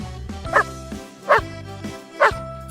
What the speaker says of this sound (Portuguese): Collie.